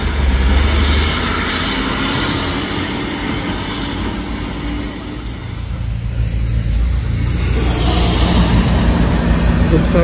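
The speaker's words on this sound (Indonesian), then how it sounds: "Truk sawit bintang ya bosku, bermuatan buah kelapa sawit. Sepertinya mau mengambil jalur kanan untuk memudahkan dia menanjak." A Hino truck loaded with oil palm fruit grinds uphill on a steep road, its engine drone loud and sustained with a brief dip midway before swelling again.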